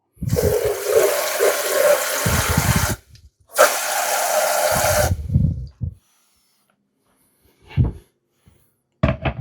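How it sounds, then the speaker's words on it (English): A bowl filling with tap water, two long, loud bursts of rushing, splashing flow from the tap, separated by a brief pause, then a few short spurts and quiet gaps. "you basically need to fill it up with water. It doesn't have to be clean water, it can be tap water. I'm gonna fill it up right now."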